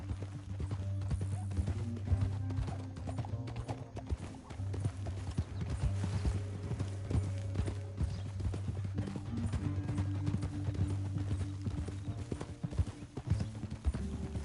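Steady clip-clop of horse hooves trotting along in Red Dead, with a low droning background hum and faint game ambience.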